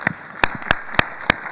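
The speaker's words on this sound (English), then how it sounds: "with your permission, Christian, I think we should give the union an applause" Sparse applause at a dialogue event, heard as five separate sharp claps spaced evenly apart, close and fairly loud over a quiet room.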